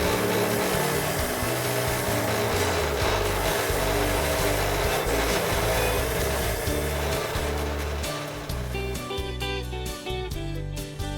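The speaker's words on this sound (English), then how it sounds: "I am removing as much rust off this bracket as I can" Rust being scrubbed off a rear brake bracket from a 2019 Mazda CX-3 during a brake job, a steady, loud abrasive rubbing and grinding that runs continuously and eases slightly near the end.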